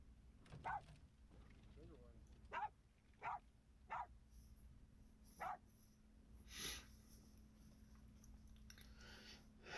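Several short, sharp dog barks come in irregular bursts over a steady low background hum, moderately distant.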